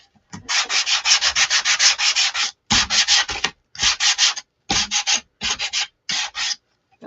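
Rapid rhythmic rasping of sandpaper roughening the edges of a wood snowflake door hanger, close and steady, in several bursts of quick back-and-forth strokes separated by short pauses.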